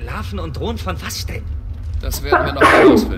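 Sneeze during a German co-op session of Gears of War 4, a sudden loud burst near the end that follows close conversational talk.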